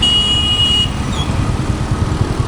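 Road traffic on a rainy day, heard from a motorcycle: a steady, loud low rumble of engines and wet road noise, with a brief high buzzing tone near the start.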